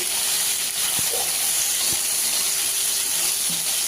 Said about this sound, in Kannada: ಸ್ವಲ್ಪ ಎಣ್ಣೆ ಮತ್ತು ಸಾಸಿವೆ, ಜೀರಿಗೆ, ಅರಿಶಿನ ಹಾಕಿ ಹುರಿಬೇಕು